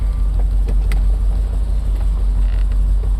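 A hand-cranked window winds inside a 1967 Corvette with a 400 hp Tri-Power engine, giving faint creaks and clicks under the loud, steady rumble of the running engine.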